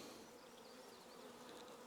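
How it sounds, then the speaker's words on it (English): Honeybees and many drones buzz inside an open hive, a dense, steady hum heard up close and alone, with no voices. "Man, there's a lot of drones in this thing."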